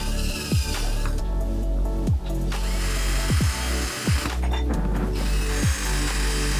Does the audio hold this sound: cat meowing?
no